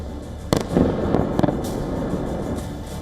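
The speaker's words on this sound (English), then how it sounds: "4 Russian missiles slammed into targets in less than a minute. There were no interceptions, no explosions in the sky, just impact after impact." Russian missiles strike targets in the Golosiivskyi district of Kyiv, heard as several sharp, heavy blasts within a few seconds, followed by a rumbling, echoing aftermath.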